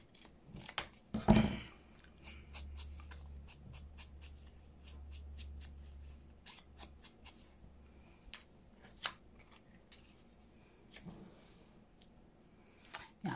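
Scissors snip through paper for a junk journal, a few crisp cuts close by followed by quiet handling sounds and scattered rustles.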